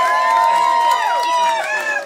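A costume contest crowd cheers and calls out in a sustained wall of voices with whoops and shouts rising and falling, fairly loud and close throughout.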